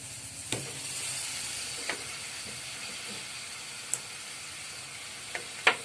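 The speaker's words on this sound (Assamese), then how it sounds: "মটৰ আৰু পনীৰখিনি মছলাৰ লগত ভালদৰে অকণমান ভাজি ল'ব লাগিব" Paneer and peas fry with spices in a pan, a soft, quiet sizzle running underneath a few sharp taps and clicks of a spoon.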